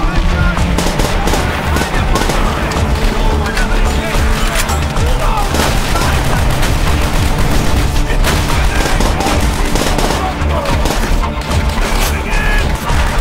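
Dense, continuous battlefield gunfire from the Call of Duty: World at War assault on Berlin, with rapid machine-gun bursts, rifle shots and occasional booms filling the whole stretch, and shouted voices buried in the din.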